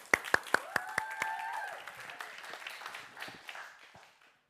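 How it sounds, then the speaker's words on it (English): A few sharp claps swell into a short burst of audience applause with a brief whistle, then fade away to quiet. "Give them a round of applause."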